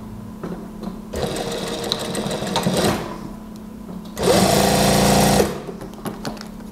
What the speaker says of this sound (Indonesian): Jahit biasa.